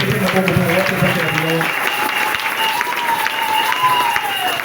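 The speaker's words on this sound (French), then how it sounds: "Applaudissez pour votre femme." A church congregation claps during a joyful French-language service, steady crowd applause under voices and a sung or sustained vocal tone.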